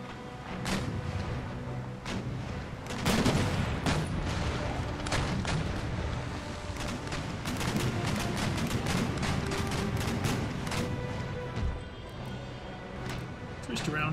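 Naval cannons firing chain shot in an Empire: Total War sea battle, a dense run of booming blasts and sharp cracks volleying irregularly over a continuous battle din, with someone talking throughout.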